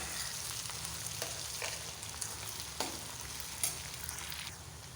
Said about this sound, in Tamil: உருளைக்கிழங்கு சேர்த்து லேசாக வதக்கணும்.